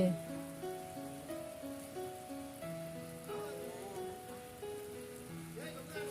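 Steady rain patters down on a morning before school, a soft, even hiss throughout with faint tonal sounds layered over it and no clear talk.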